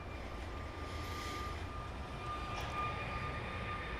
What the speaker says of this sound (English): A plane taking off over on the east side. I can hear it.